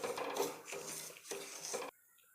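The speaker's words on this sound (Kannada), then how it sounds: "ರವೆನ ತುಂಬ ಚೆನ್ನಾಗಿ ಹುರ್ಕೋಬೇಕು" Dry semolina, the coarse rava used for upma, rasps and scrapes under a spoon as it roasts in a pan, in several close rubbing strokes that stop abruptly.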